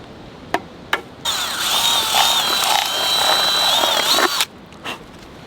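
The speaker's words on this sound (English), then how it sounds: "So when you drill into the tree, they say not to go around like that." A power drill bores steadily into a maple tree for tapping, a continuous whining grind lasting about three seconds, framed by a few sharp knocks before and after.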